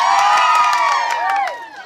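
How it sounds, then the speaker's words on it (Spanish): Village festival crowd during patron saint celebrations shouts and cheers loudly, overlapping whoops and voices, with some scattered clapping, peaking early then dropping in intensity. "Oiga, cómo grita la gente, escuchaste, ¿verdad?"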